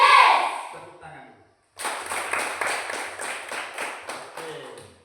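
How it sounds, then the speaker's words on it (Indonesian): A small group in a class clapping hands: brief noise at the start, a short pause, then a few seconds of rhythmic, moderately close clapping with light pulses. "Tepuk tangan."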